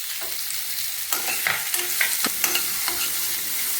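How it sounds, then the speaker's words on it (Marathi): Green chillies and chopped guava sautéing in a pan, a low sizzle under repeated sharp scrapes and clacks of a spatula stirring, close and uneven in rhythm, with no talking. "थोड्या मिरच्या अशा परतायच्या आणि आपण चिरलेला पेरू घालायचा"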